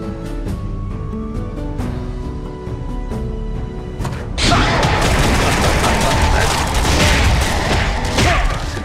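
Shadow Mage attacks in the Kritika Online video game, with plucked musical notes followed by a dense burst of rapid-fire blasts and thumps that keeps going loud over the game music.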